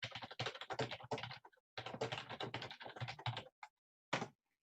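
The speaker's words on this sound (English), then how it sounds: "And I'm going to type." Close-up typing on a computer keyboard, in quick bursts of clicky keystrokes with short pauses and a couple of isolated taps at the end, with no voices.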